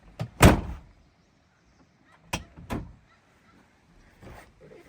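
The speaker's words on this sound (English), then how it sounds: "these doors are so much different than the old Ranger doors. Like, that's a door right there. Hefty. It makes a sound when you shut it." Heavy door of a Polaris Ranger North Star Edition utility vehicle cab shutting, a loud solid slam near the mic, followed by two lighter door thuds and faint handling noise.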